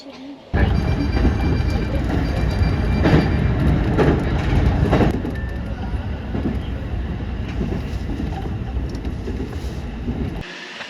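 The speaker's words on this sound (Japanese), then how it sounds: "まもなく電車が入線してきます。" A Tokaido Line local train to Toyohashi, Japan, rolls into a station with a loud, steady rumble and rattling wheels, brief squeals and clanks, then the noise drops and cuts off near the end.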